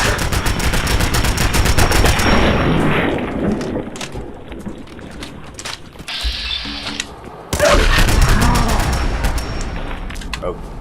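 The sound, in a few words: gunfire in video game Fallout 4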